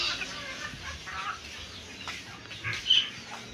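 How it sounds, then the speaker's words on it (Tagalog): Chickens and small chicks cluck and peep in a farmyard, a steady low chatter of several birds with one brief louder squawk near the end, no voices present. "Dami ng mga manok, oh. Sisiw."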